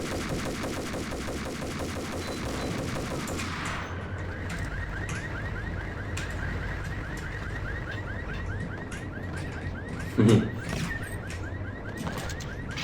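In the shooter Max Payne, an enemy with a shotgun fires a single loud, sharp blast amid a continuous bed of in-game noise, rattling gunfire and repeated chirping tones.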